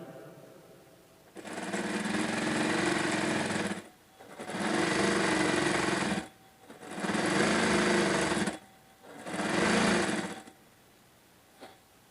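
A sewing machine fitted with a shirring presser foot gathers fabric in four steady bursts of about two seconds each, separated by short pauses, loud and close with no talking.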